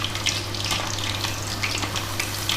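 Marinated chicken pieces frying in a pan, a steady close sizzle with faint crackles throughout, no talking.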